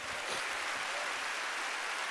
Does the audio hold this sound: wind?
no